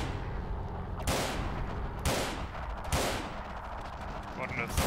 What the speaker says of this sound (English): Some spam firing there.